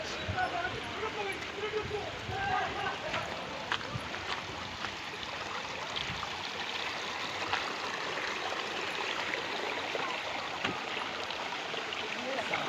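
A stream and small waterfall flowing steadily outdoors at a village beauty spot near Thanagazi, Sariska, Alwar in Rajasthan, a continuous watery rush with scattered splashes, while people talk over it.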